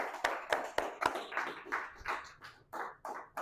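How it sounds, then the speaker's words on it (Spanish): Church congregation at a Spanish-language service clapping in a steady rhythmic beat, sharp distinct claps spaced evenly and fairly close, with no talk over them. "Dale un aplauso al Señor Jesucristo"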